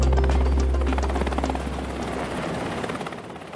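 A large US military helicopter roars close by, heavy rotor thump and engine whine filling the air, gradually easing slightly as it passes.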